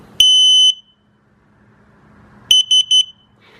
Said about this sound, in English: So you hear those 3 short beeps right afterwards. That indicates sensor 3 is not seen or is defective.